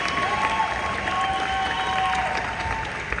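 A crowd at a Q Sciences company event gives sustained applause with some cheering, a steady dense clatter of clapping that eases slightly toward the end.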